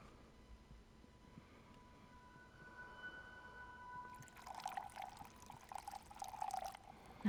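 Water pouring into a vessel in a dark FMV video game scene. A faint, quiet trickle swells into a steady splashing pour over a low background hum.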